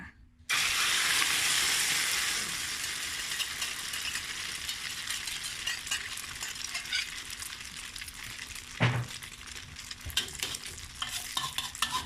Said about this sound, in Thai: สังเกตมีควันขึ้นแล้วนะคะ มีควันขึ้นแล้ว เราก็ นำไข่เจียวลงไปเลยค่ะ